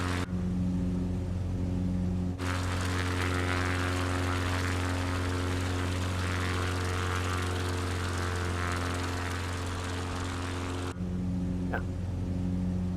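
Propeller engine of a CubCrafters XCub light aircraft in flight over Whistler, B.C., a steady loud drone that shifts to a lower, rougher tone as the throttle is eased back, then returns near the end.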